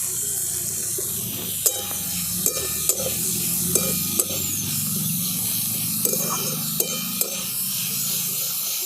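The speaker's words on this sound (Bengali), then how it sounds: "দেখুন পেঁয়াজ আর টমেটোটাকে আমি একটু ভালো করে ভেজে নিয়েছি।" Chopped onion and tomato fry in a pan, giving a steady soft sizzle with occasional sharp clicks of a spatula stirring, fairly close and without talk.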